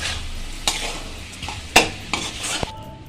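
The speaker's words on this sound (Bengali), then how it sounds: "আমি এটাকে ভালো করে নেড়ে চেড়ে আর একটু ভেজে নেব।" Red amaranth greens fry with a steady sizzle in a pan while a spatula stirs and scrapes, giving a few sharp metallic clinks close by and no voices.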